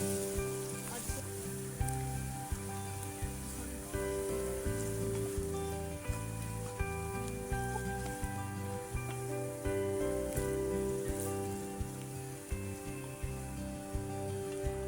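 Salt, masala and turmeric sizzle in a pan of baingan bharta, a steady, close frying hiss running continuously under background music with no speech.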